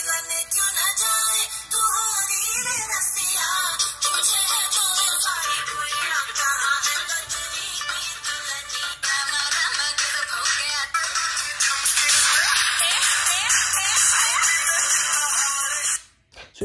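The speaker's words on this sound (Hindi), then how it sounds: "फ़ोन को मैंने कनेक्ट कर लिया, प्ले करता हूँ सॉन्ग।" A song plays through the Bluetooth speaker of a Chilli C10 card phone, a steady bright tinny music stream close by that continues for several seconds and cuts off abruptly at the end.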